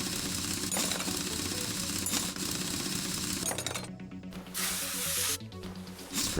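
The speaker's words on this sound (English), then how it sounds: "Spray some of that." A spray can hisses in a steady stream while cleaning a car part in the video game Car Mechanic Simulator 2021, continuous and close, briefly stopping and restarting twice near the end.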